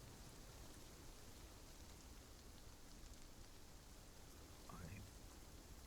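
Steady rain falling, a dense even wash of drops close by with no pauses, low in level, and a faint low rumble near the end.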